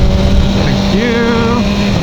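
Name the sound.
BMW S1000R motorcycle engine during clutchless shift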